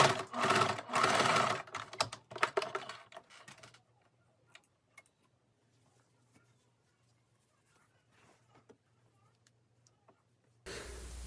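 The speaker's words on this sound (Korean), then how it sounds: "시보리 손목선 박음질 후에는 시접선에 오버록 스티치를 해서 마무리를 합니다" An overlock sewing machine runs loud, rapid bursts along the seam allowance of a sweat jacket's knit cuff, then goes quiet with faint ticks before starting up again at the end.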